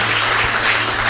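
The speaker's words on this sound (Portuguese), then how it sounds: "Aplauda o Senhor." An evangelical church congregation applauds in praise, with a brief, loud, dense burst of clapping and a low hum underneath.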